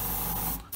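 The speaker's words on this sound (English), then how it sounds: "I spray a little bit more aluminium on the areas that I really want to look pretty aluminium" Aluminium metallic paint sprayed from a can onto an Airfix Hawker Hurricane Mk.1 Tropical scale model, one short continuous hiss that cuts off abruptly near the end.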